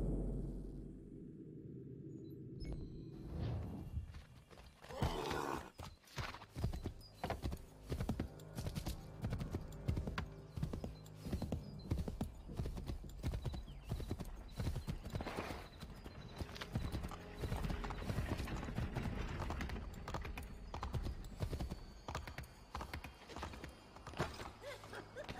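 Horse hooves clip-clop steadily through the Assassin's Creed III game, loud and continuous under busy game sounds, with a brief neigh possible.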